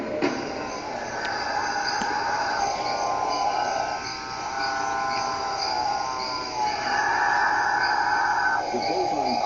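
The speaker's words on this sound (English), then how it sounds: "The bovine calls fill the trees" Calfbirds give drawn-out, lowing moo-like calls from the trees, repeated in several long phrases. The calls sit over a constant background of insects and forest noise.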